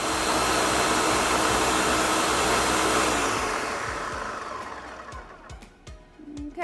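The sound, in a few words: blender running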